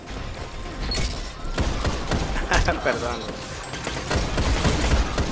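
A shootout in a video game, with rapid bursts of gunfire and sharp impacts crackling over several seconds, layered under excited talking.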